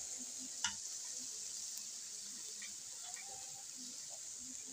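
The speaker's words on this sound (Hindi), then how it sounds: "और अब हम इसे दोबारा से अच्छे से फ्राई कर लेंगे।" Chicken chow mein frying in a pan, a faint, steady sizzle hiss running throughout, with a few soft stirring clinks and scrapes scattered across it.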